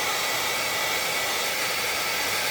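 A hair dryer runs steadily close by, drying paint on a painting of Chatham Light, a loud continuous airy roar with a faint motor whine and no talking.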